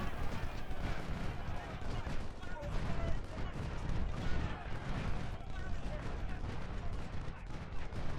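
Canister artillery and musket fire roll on steadily in the Ultimate General Civil War video game, a dense, continuous battle rumble with scattered shots. A voice talks over the gunfire.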